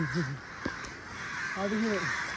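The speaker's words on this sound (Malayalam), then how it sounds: "ഫുള്ള് കാക്കച്ചികള്. വെറൈറ്റി കാക്കകളൊന്നുമില്ല." Crows in an outdoor hidden spot near Thalassery: two short bursts of harsh cawing at the start and again near the end, moderately close, over steady ambient noise and someone talking.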